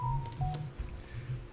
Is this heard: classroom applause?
no